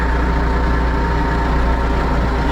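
A McCormick X1.55 compact tractor with a 55 hp engine runs steadily up close, giving a loud, continuous diesel drone with a low throbbing hum and no changes in pace.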